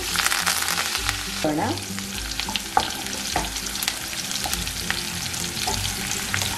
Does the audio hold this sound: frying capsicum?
yes